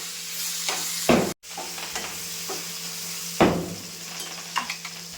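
Paneer sizzles steadily in a pan as spring onion greens are tossed in, with a close, constant fry broken by a few loud stirring scrapes and clinks.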